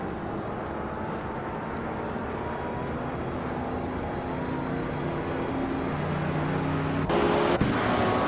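Vintage street-class cars race at Monza in a racing video game, their engines droning as a steady, dense roar that holds throughout, with a brief sharper change near the end.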